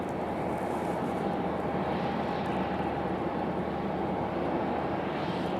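Breeze Airways Airbus A220 at Raleigh-Durham airport, a faint, steady distant jet engine rumble with a constant whine that swells slightly near the end.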